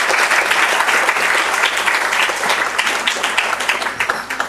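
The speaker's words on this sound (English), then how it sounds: "I would request to please give a big round of applause" An audience at an award lecture marking a professor's 98th birth anniversary gives a loud, dense round of applause that carries on steadily and thins slightly toward the end.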